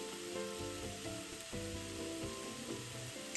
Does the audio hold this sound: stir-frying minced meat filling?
yes